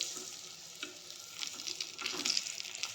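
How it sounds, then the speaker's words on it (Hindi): KFC-style chicken shallow frying in a pan, a steady close sizzle with bursts of crackle that grow louder toward the end, no voices present. "मु आपन को एडा सेलो फ्राई रे देखौछि"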